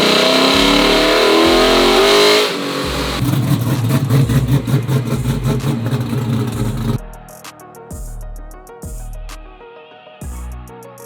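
A supercharged, fully rebuilt 2016 GMC Sierra Denali pickup with a 6.2 V8 runs on a dyno, loud and close: a sustained high rev, a drop, then repeated sharp throttle blips settling between bursts.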